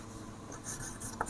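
A pen scratches across paper while an equation is written out for a class 10 quadratic equations lesson, a few quick soft strokes up close with no voice.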